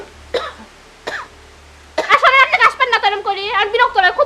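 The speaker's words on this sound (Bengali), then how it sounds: "বিরক্ত লাগে আমার আপনার এই কাশি থেকে" A person gives two sharp, separate coughs close to the listener before a stretch of lively talking, which carries on in a heated domestic scene.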